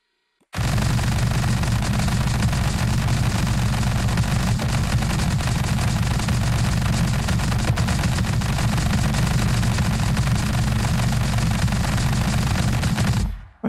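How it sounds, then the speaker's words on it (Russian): An anti-aircraft gun in Scrap Mechanic fires a relentless, loud stream of rapid shots for about thirteen seconds, dense and unbroken from a sudden start to an abrupt stop, with no talking. "Какая-то зенитка стреляет наверняка, да? Ни хрена себе стреляет она."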